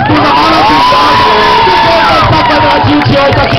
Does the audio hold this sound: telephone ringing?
no